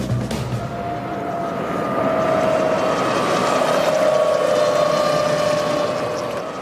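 Steady whirring electric motor of a Zeku electric motorbike, a sustained drone with a faint rising whine, moderately loud and close throughout, no voices.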